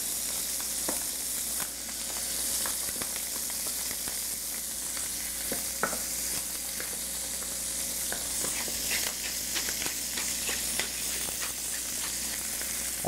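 Guinea fowl supremes sear skin-side down in a hot pan, a steady close sizzle with scattered sharp pops and crackles running unbroken throughout, no voices.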